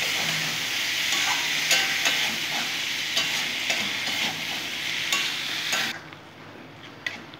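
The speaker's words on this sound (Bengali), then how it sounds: "ছোলার সাথে আমি ভালো করে মিশিয়ে নেব।" Boiled chickpeas are stirred in a hot pan, a continuous frying sizzle broken by scraping spoon strokes, fairly close and steady before dropping quieter near the end.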